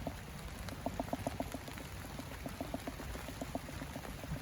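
Heavy rain falls on a field of tall sunflowers, a steady hiss with bursts of close, rapid droplet patters striking leaves, sounding fairly soft overall.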